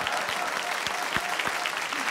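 Studio audience applauding during a Cuban comedy show, a steady dense wash of clapping held for a couple of seconds with a few louder individual claps standing out.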